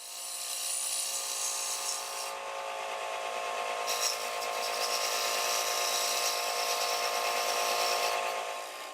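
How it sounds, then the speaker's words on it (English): An Easy Detailer woodturning tool cuts steadily against a spinning wooden bowl on a lathe, rounding over a bead at the rim, with a continuous close hiss and whine and brief dips in the cutting noise. "Now with the Easy Detailer, carefully round over the bead."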